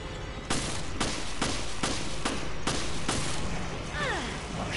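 Gunshots in the horror shooter Resident Evil Revelations: about eight sharp, evenly spaced shots ring out loud and close, followed by a brief whooshing sweep near the end.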